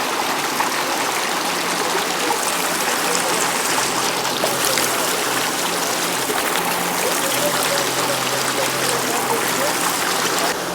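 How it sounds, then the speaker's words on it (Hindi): Mountain stream water rushing along a trekking route to Malana village in Himachal Pradesh, a loud, unbroken roar and splash close by that never lets up. "पानी का बहाव देखो"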